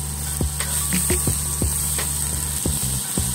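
Butter melts in a hot pan for a salmon and smashed potato dish, a steady close sizzle with a few sharp clicks and taps of a utensil over it, no talking.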